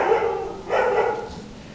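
A dog near a large Buddha statue in Pattaya, Thailand barks loudly and close, two strong barks separated by a short pause, with no talk over them.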